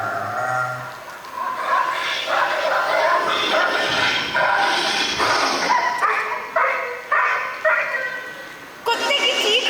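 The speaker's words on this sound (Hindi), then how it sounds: "कुत्ते की भौंक के साथ साथ नाग की फुफकार भी थी।" A dog barks, yips and whimpers in a series of sharp bursts and agitated cries, fairly close and loud, as in a fight with another animal; no hiss from a cobra stands out.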